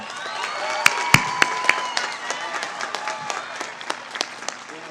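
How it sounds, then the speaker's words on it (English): Audience at a 2024 high school graduation ceremony applauds steadily, with a few sharp nearby claps standing out over a dense, even wash of clapping from the crowd. "can we give our valedictorians another round of applause, please?"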